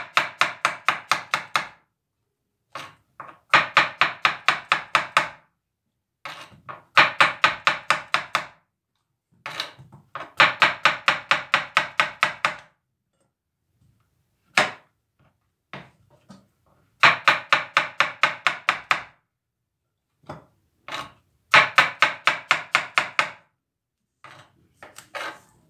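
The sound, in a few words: knife chopping mushrooms on a board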